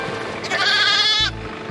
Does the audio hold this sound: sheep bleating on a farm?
yes